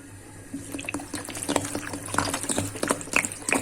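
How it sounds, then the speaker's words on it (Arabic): Water runs steadily into a cooking pot on a lit gas stove for Egyptian mallow stew, a soft continuous pour with small splashes that grows slightly louder toward the end. "وهبدا كده احط لها دور ميه"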